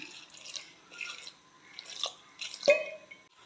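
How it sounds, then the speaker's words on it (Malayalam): Water is poured in several short splashing bursts into a pot of ash gourd and mango curry, soft and close with brief pauses between pours. "എന്നിട്ട് നമുക്ക് ആവശ്യത്തിനുള്ള വെള്ളം ചേർത്ത് കൊടുക്കാം"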